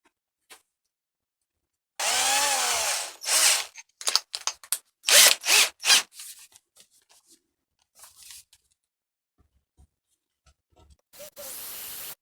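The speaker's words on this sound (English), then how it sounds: "now I'm going to use a Forstner bit to make the shallows" A Forstner bit bores shallow cavities into a wooden guitar body, starting with a loud sustained drilling whine that winds down, then a run of short bursts and taps, close and isolated.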